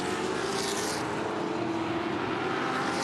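A touring car from the Touring Car Masters at Winton races past in a steady, loud roar of engine noise, with no talk.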